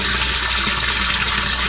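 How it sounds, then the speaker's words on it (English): Water from a garden hose runs steadily into a homemade fish pond filter, a loud, continuous broadband rush with no pauses and no voices. "So right now I'm just using the garden hose to do the test"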